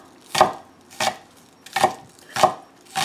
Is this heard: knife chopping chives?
yes